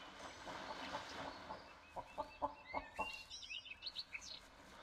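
Several chickens in a video game cluck in short rhythmic bursts, then higher chirpy calls follow, fairly faint over a soft background murmur.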